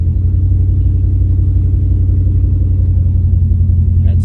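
A 2016–2019 Cadillac CTS-V engine idles right after a battery replacement, a steady close, loud low rumble that holds evenly throughout with no talking over it.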